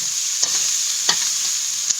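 Chili and onion stir-fried on high heat for fried rice, a strong steady sizzle broken by three sharp scrapes of a spatula against the pan.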